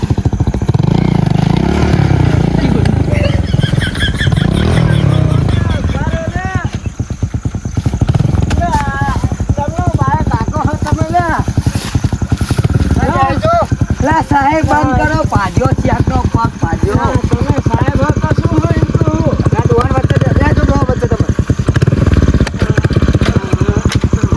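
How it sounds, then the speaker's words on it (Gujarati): A motorcycle engine running close by, a low rumble that carries throughout beneath loud, overlapping talk from several people, with some clattering and scraping mixed in. "લે સાહેબે બાઈકે બંધ કર્યું"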